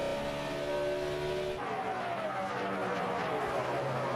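NASCAR stock cars race at speed on an oval, a loud continuous engine roar with a rising, shifting drone as cars pass, heard without talk.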